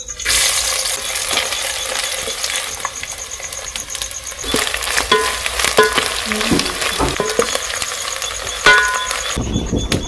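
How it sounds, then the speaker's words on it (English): Omena, small fish, sizzle and crackle steadily in hot oil, with occasional sharp clinks and scrapes from stirring, loud and close throughout, no talking. "I'll wait for my oil to heat up and then I'll add my omena here"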